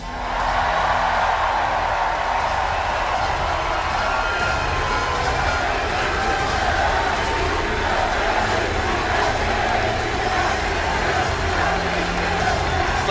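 A big outdoor crowd at a Knicks championship celebration at City Hall roars and cheers continuously, a dense, loud wall of voices with no breaks.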